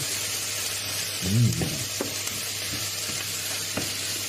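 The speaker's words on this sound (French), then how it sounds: "Vous entendez ce frétillement des oignons." Onions fry in a pan with a spoonful of flour for onion soup, giving a steady close sizzle throughout, with a brief scrape of stirring partway through and a few light taps.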